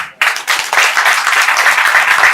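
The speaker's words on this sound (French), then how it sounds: "Il est le seul ici, il faut l'applaudir." A political rally crowd breaks into sustained applause after a brief quiet start, many hands clapping densely and loudly in a steady wash that holds to the end.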